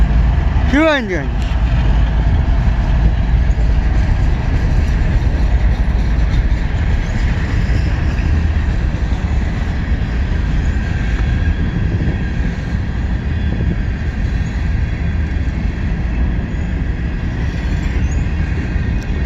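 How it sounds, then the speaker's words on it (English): A slow westbound CSX grain train, pulled by two engines, rolls past on a snowy day in Fostoria, Ohio. It makes a loud, steady rumble and clatter of railcars that lasts throughout. "Yes, CSX grain train going west."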